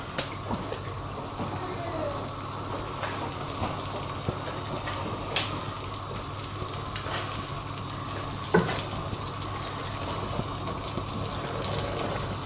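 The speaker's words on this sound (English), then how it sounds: "So we just have to wait for the butter to melt." Butter melting in a pan for a mini chicken pie gives a steady, soft sizzle and crackle, like gentle frying, that runs throughout with no one speaking.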